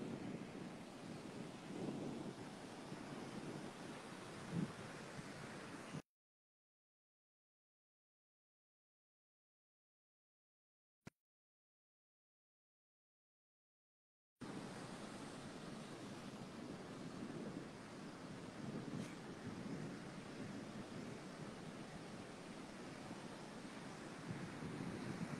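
Wind buffets the microphone on a breezy beach while ocean surf rumbles steadily behind it; the sound cuts out to silence for several seconds midway, then resumes.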